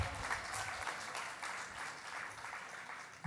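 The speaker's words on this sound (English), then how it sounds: "Give them a round of applause." Audience applause at a Philadelphia World Heritage City celebration rises for two honored chairs, steady and soft, heard from a distance for a few seconds.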